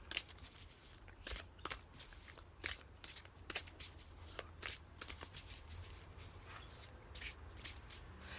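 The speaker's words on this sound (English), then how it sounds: "So I'm going to give these also a good shuffle, and we're going to select one of those cards." A deck of oracle cards being shuffled by hand, a quick run of crisp riffling and slapping bursts with short pauses between, close and quiet with no voices.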